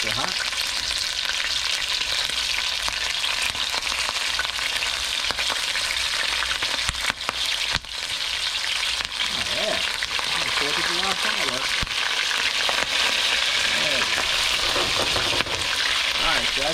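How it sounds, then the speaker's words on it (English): Chicken wings flash frying in very hot MCT oil, a loud, dense, continuous sizzle and crackle running throughout, with brief stirring sounds and some faint voice in the background. "I'll show you how to flash fry them"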